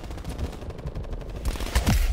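Gunfire crackles in the video game Call of Duty Black Ops Cold War, rapid bursts of shots through a busy, noisy mix that grows louder toward the end, without speech.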